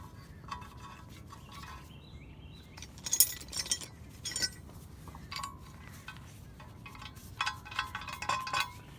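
Metal bolts fitted and tightened on a steel target post bracket, light clinks, taps and scraping metallic ticks in irregular bursts, close and fairly quiet.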